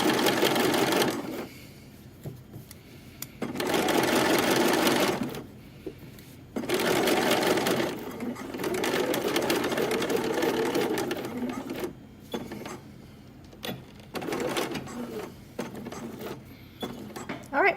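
Home sewing machine stitching a pocket, with several loud, steady whirring runs broken by short pauses where it stops and reverses to backstitch, close up and mostly alone.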